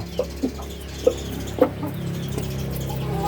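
A Burmese-line fighting rooster being readied for breeding clucks in a few sharp, separate calls over a steady low background hum, close by and with no talking.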